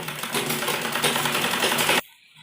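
Sewing machine stitching the folded hem of a dress made from a dupatta, a close, steady whirring rattle for about two seconds that then cuts off abruptly.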